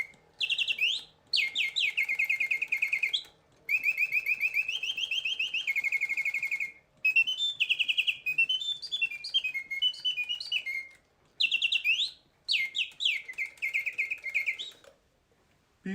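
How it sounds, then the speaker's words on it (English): A wound-up clockwork singing bird automaton with a real-feathered miniature bird trills loud, clear birdsong in repeated bursts of rapid chirps and warbling whistles, broken by short pauses. "And I wind up the clockwork mechanism. The miniature bird inside has real feathers on"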